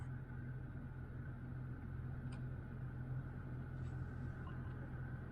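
Quiet, steady whir of ventilation fans running inside a car, with a faint low hum and no voices.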